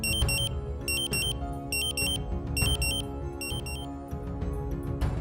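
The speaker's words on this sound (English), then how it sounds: "After a few seconds, the Dräger Pac will activate the alarm." A Dräger Pac portable gas detector sounds its alarm during a bump test, rapid high electronic beeps in repeated clusters at a steady rhythm, fairly faint, with no talk.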